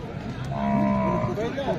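A bull at the Belhe cattle market in Maharashtra gives a long, drawn-out moo close by over a busy market crowd murmur.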